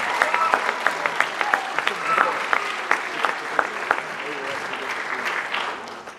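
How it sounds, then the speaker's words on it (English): An audience applauds students at a high school vocal pops concert during a senior recognition ceremony, with scattered sharp claps and steady clapping from a moderate-sized crowd filling several seconds. "Round of applause for our students."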